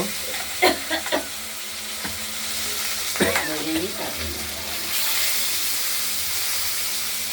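Potatoes fry in a pan for a katla fish and potato soup, a few clattering stirs up front giving way to a steady, close hiss of sizzling oil.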